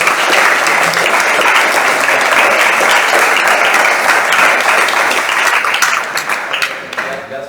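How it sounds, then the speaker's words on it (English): Audience at an event on electrifying heating and cooling in buildings gives the panelists a loud, sustained round of applause that fades out over the final second or two. "A warm round of applause to my panelists."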